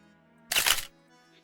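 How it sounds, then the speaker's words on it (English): A single crisp camera shutter click, brief and fairly loud, snaps out against a quiet background as someone takes a photo. "The sound of a shutter causes everyone's attention to focus on him."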